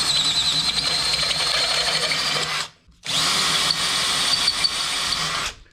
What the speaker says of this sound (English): what I've done is I put in a step drill